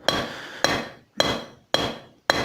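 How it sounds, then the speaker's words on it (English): Hammer striking a railroad spike held on an anvil during forging, five evenly spaced ringing blows about half a second apart, each clang decaying before the next, close and clear. "we can be more efficient with our hammering against the anvil"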